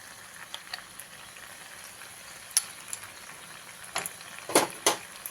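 Spice paste and ginger paste are stirred into vegetables in a hot pan for a Bengali red spinach fry, with a faint low sizzle and sparse, sharp scraping clicks of the spoon, a few louder strokes near the end.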